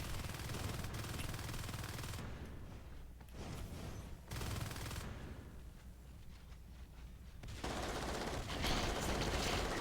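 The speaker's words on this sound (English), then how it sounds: "Marines on the PvE, shooting all the structures." Marines in StarCraft fire on enemy structures during a PvE push, a dense, sustained rattle of rapid gunfire with short gaps and bursts of clattering impacts, loud and continuous across the scene.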